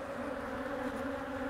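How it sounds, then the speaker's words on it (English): Honey bees swarm around an open beehive during an inspection, where the hive has swarm cells; the buzzing is a steady, soft, continuous drone with no talking. "So there is too many bees and too little time."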